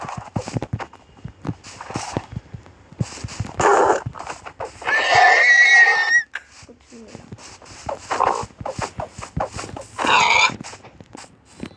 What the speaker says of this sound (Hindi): ओ एक और घोड़ा.